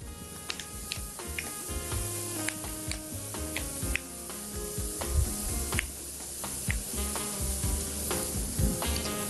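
Garlic cloves sizzle in a tagine for an Algerian dish, a quiet crackling fry with small pops and ticks over a low hum, steady for the whole stretch.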